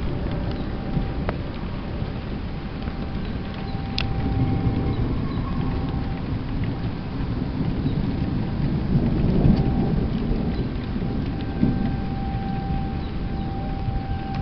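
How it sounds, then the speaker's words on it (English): Steady rain pours during a thunderstorm while low thunder rumbles roll in the distance, swelling and fading over the continuous hiss of falling water, with no voices. "I believe it is only going to be a thunderstorm."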